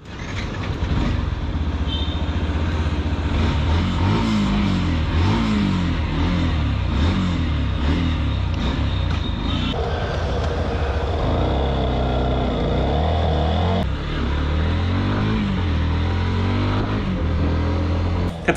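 A Yamaha FZ-X motorcycle with a 149cc air-cooled four-stroke single-cylinder engine drones loudly and steadily while being ridden. Its pitch rises and falls through gear changes, with a noticeable shift around the middle and wind rushing past.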